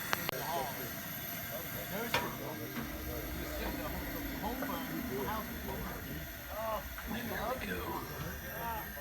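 A Coleman 413D camp stove burner hisses steadily under a boiling pot, a constant close roar with bird calls and outdoor camp noise in the background, while someone talks.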